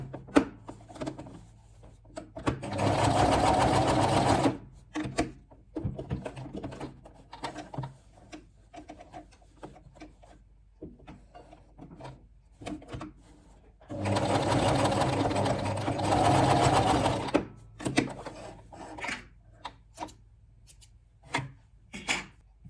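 A sewing machine stitches elastic onto a towel headband in two sustained bursts of close, steady whirring, separated by quieter handling clicks and rustles, with a voice briefly heard between them.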